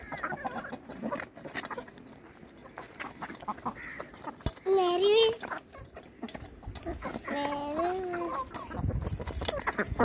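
Aseel chickens cluck on a farm, with several distinct calls rising over soft background noise and children's voices nearby.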